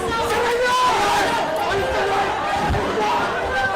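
Agitated voices clamour inside the Senate building during an armed intrusion, with many people shouting and talking over one another in a dense, echoing babble, steady and fairly loud, with a few sharp knocks.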